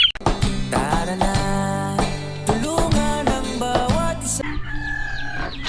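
Roosters crow loudly and repeatedly up close, their calls overlapping in a noisy, continuous chorus.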